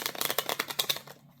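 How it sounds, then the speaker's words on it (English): A deck of playing cards is shuffled once, a quick, faint, close riffle of rapid fluttering flicks lasting about a second before it stops. "I'll shuffle them a couple times."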